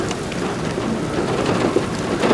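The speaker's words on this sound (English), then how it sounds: "with this rain coming in" Heavy rain during a tornado storm near Howardwick, Texas, a loud, dense hiss of pouring rain with a low rumble of thunder beneath it, continuous and unbroken.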